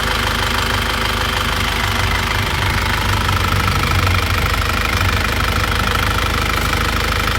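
Diesel engine of a 2001 Isuzu Panther running hot at operating temperature, a steady rough idle with a coarse knocking clatter, loud and close throughout with no talking.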